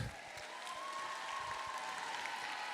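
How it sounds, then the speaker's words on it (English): An audience at a junior debate showcase applauds as debaters walk up to the microphone, steady clapping at a moderate distance with faint crowd murmur. "Give them a round of applause as they approach the mic"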